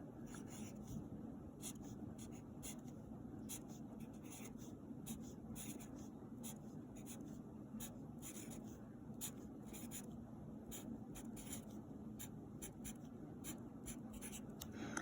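Marker or pen writing freehand on a surface while drawing a number line, a steady close scratchy rubbing that runs continuously with no talk.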